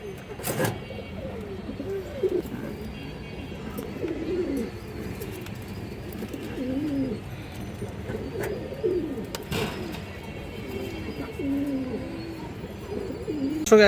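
Bagha and silver breed pigeons coo in soft, repeated rolling phrases close by, with a few sharp clicks and faint background chirps.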